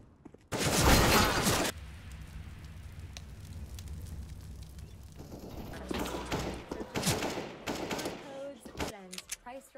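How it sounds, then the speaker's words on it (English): A flashbang grenade goes off in a video game with a loud, broadband burst in the first second, followed by a lingering ringing hum and scattered gunfire-like crackles. "Throwing a flashbang. We are going to do this. It is going to explode."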